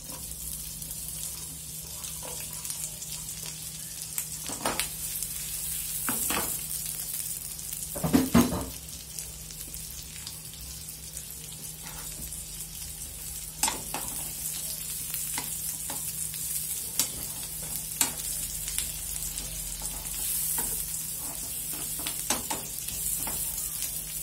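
Chopped garlic and onion sizzle steadily in a hot pan, a constant bright hiss with occasional stirring clicks and scrapes, close and continuous with no talking.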